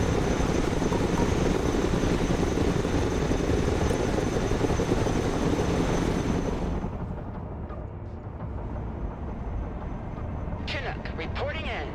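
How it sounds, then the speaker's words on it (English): In the video game Broken Arrow, loud, steady rotor roar of a heavy transport helicopter dominates, then drops off sharply to a quieter hum with a few faint clicks near the end. "Let's go and recover it with our helicopter."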